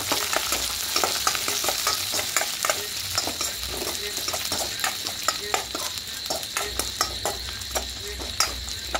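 Almonds, cashews and raisins fry in ghee on medium flame for a vermicelli payesh, a soft steady sizzle broken by repeated rhythmic scrapes and clinks of a spoon stirring in the pan, close and without talk.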